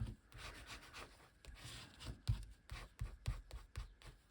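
Paper being burnished down onto double-sided tape, a soft close rubbing and scraping in quick repeated strokes, quiet with no talk.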